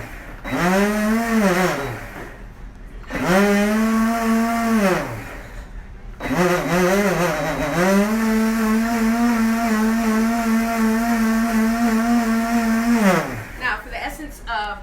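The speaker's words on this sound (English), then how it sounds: "we're gonna just blend this up" A blender whirs as it mixes a drink in a pitcher that doesn't match its base, running in bursts with motor pitch rising and falling, cutting out twice before a long steady run, then stopping.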